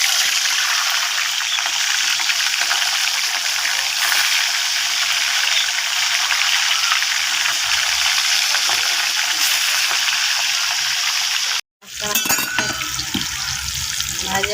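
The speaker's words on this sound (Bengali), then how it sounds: "তেলটা আমার গরম হয়ে গেছে, তো এখন আমি মাছটাকে ছেড়ে দেবো।" Rohu fish sizzles loudly in hot oil in a pan, a constant crackling hiss. It breaks off for a moment near the end and then resumes.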